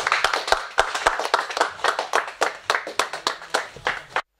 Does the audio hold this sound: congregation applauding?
yes